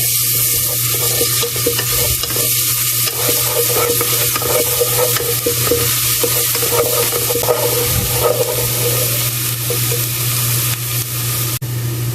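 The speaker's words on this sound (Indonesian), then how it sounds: "Lalu masukkan bawang putih, ditumis ya." Garlic stir-fries in hot oil with a steady loud sizzle and frying hiss, stirred continuously throughout, with a faint clink near the end.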